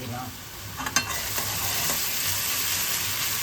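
Onion paste with salt fries in a pan, giving an even, close sizzle that hisses throughout, with a couple of soft stirring scrapes near the start and no talking.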